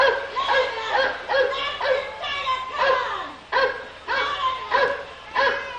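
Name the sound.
dog barking in the Carousel of Progress animatronic show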